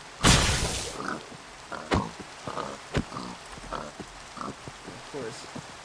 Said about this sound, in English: Like if I were to go over to these pigs.